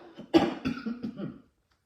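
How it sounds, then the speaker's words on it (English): A single close cough followed by a few smaller throat-clearing hacks, then quiet. "I still have the cough."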